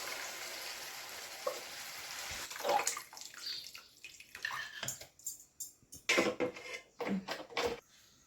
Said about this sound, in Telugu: ఇప్పుడు నేను ఫైనల్గా పులుసు పోస్తున్నాను.